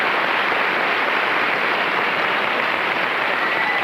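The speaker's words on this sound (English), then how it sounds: "Listen to the applause." Sustained audience applause from a live stage performance, a dense, even wash of clapping that holds steady at close range with no voices above it.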